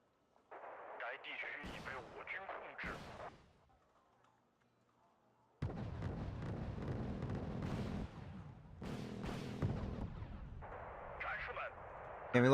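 Artillery fire in the war strategy video game Wargame: Red Dragon, heavy booming bursts and rumbling blasts in two dense stretches separated by a quiet gap, with voices talking over parts of it.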